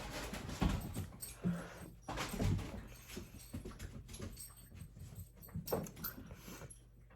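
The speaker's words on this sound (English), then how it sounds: "yeah, the dogs are going crazy." Several dogs bark and whimper excitedly in the background, a continuous agitated racket at moderate distance with no talk over it.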